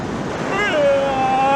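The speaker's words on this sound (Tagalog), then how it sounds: "naririnig nyo yung hangin plus yung alon" Ocean surf and wind on a Boracay beach at night make a steady, full roar of wind and rolling waves, with a thin whistling tone drifting over it partway through.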